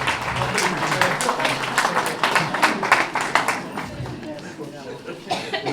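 An audience claps at a celebration-of-life memorial for a retired army captain, the applause strong for about three seconds and then thinning out while voices carry on over it.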